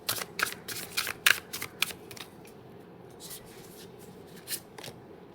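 Tarot cards being shuffled by hand during a reading, a series of close crisp riffling and slapping bursts that thin out into quieter, sparser handling.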